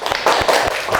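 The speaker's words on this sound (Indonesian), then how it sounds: "Silakan beri tepuk tangan untuk kelompok 4." Short burst of classroom applause for a student group after a discussion, several quick claps close together, lively and brief with no speech.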